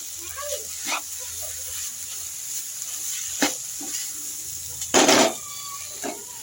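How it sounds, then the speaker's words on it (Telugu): Grated coconut for coconut laddus fries in a pan with a soft steady sizzle, broken by scraping stirs and a louder scrape near the end, while people talk faintly. "బాగా ఫ్రై అవ్వాలండి."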